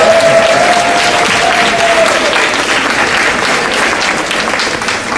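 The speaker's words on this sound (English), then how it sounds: "Give them a round of applause." Loud, dense applause from parents at a 4th and 5th grade school music performance, a sustained wash of many hands clapping at once with a brief voice or whistle early on.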